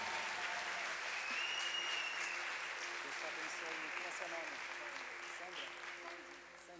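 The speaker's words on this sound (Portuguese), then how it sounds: "Pode aplaudir, bem forte" A church congregation applauds loudly and steadily, a dense wash of clapping that holds for several seconds before easing slightly, with no voices over it.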